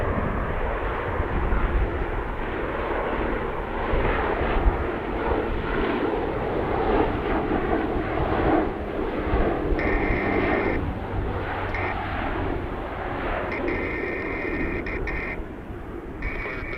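An Air Canada airliner's jet engines roar steadily at Edmonton International Airport, a broad, sustained rumble heard from a distance, with faint radio chatter tones breaking in toward the end.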